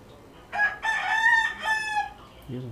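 A rooster gives a single loud, drawn-out crow nearby, followed by a brief low cluck, with no talking.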